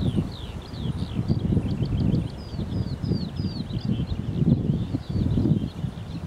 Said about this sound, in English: the skylarks still sing, so it can't be bad